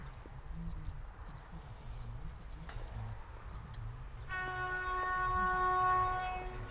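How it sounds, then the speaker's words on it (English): A Cross Country Super Voyager train passes a footpath level crossing at speed, heard as a low rumble building to a louder roar, while a steady, bright warning tone from the crossing sounds in the second half. "A cross-country Super Voyager speeds towards Exeter St David's via"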